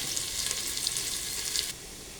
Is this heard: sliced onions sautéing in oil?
yes